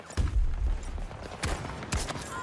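Desert Eagle pistol shots in the Battlefield 2042 video game: a few sharp, heavy gunshots spaced about half a second apart, with booming low thumps and no talk.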